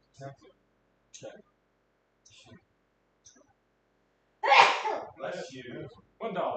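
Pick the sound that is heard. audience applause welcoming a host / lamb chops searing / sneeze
sneeze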